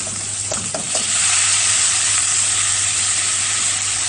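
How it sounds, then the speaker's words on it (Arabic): Rice tips into vermicelli frying in ghee and oil, setting off a loud, steady sizzle that swells after a few brief stirring clinks and then holds as a dense hiss close up. "هنزل بقى عليها بالرز."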